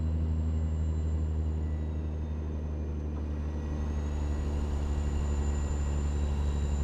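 A heavy truck engine in American Truck Simulator labours up a grade, heard as a steady, loud low drone with a faint high whine drifting in pitch, continuous with no talking.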